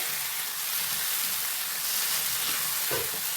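Taro (chembu) curry is stirred in a pan with the flame off, giving a continuous soft sizzle and a scraping, churning hiss with no talking.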